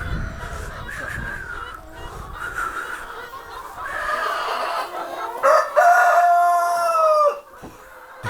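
Chickens on a grain-free farm, with a rooster crowing loudly near the end over steady clucking and fowl calls from the flock, up close and without speech.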